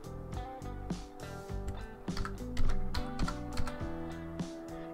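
Keys on a computer keyboard clatter in quick, irregular bursts as a command is typed, crisp close-up clicks with a few heavier strikes, no voices.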